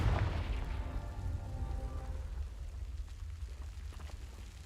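A Confringo spell explosion in the Hogwarts Legacy video game: a sharp blast at the start, then a low rumbling decay that fades over several seconds.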